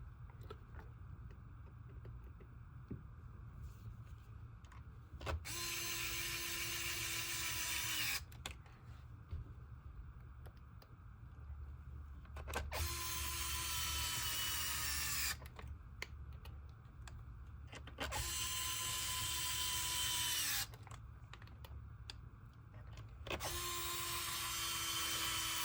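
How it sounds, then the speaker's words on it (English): A power driver sinks screws back into the lid of a 1/10 scale RC base camp in four separate bursts of whirring, each a few seconds long, with quiet handling noise in between. "pop the lid back on and then drive those screws back in."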